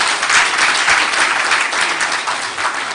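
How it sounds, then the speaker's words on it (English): An audience at the Ghana Football Association's 31st ordinary session applauds in a steady, dense round of clapping that carries through without a break. "Can we give a round of applause, please?"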